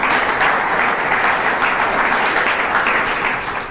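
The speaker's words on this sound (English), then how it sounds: "I would like to ask for your applause" Steady, loud applause from an audience in a hearing room, filling the clip evenly from start to finish with dense clapping.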